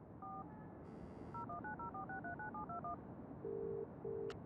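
A telephone being dialed in the video game Broken Sword: The Sleeping Dragon: a quick run of clear keypad tones in an uneven rhythm, a burst of static-like noise early on, then two longer steady ringing tones.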